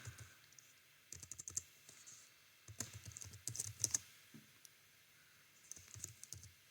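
Bursts of typing on a computer keyboard, quiet and close, with clusters of rapid key clicks separated by short pauses.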